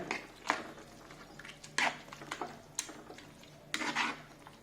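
Chicken manchurian with tomato, soy and chilli sauces is sautéed in a pan, with sporadic clanks and scrapes of a spatula against metal over a faint sizzle, quiet and close.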